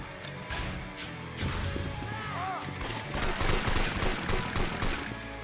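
Gunfire in Yakuza 4: bursts of shots and crashing impacts pile up in a busy game soundscape that grows louder toward the end.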